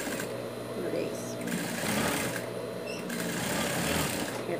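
A sewing machine stitches the top of a small pocket on a dog shirt, a steady fast mechanical whir running throughout with slight changes in pace, while someone talks over it.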